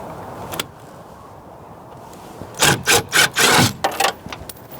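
A handheld drill bores through metal during a mobile radio install bonding job near a butyl joint: a brief faint buzz, a pause, then four or five loud close whirring bursts in quick succession.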